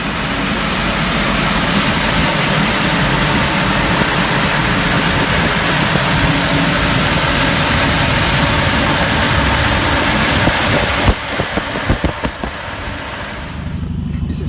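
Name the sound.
Renault Megane RS engine idling with cooling blower on dyno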